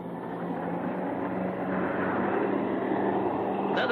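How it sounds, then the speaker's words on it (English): Jet planes fly overhead in the 1966 monster film Gammera the Invincible, a steady, broad roaring drone that swells slightly, ending with a brief sharp burst. "Planes"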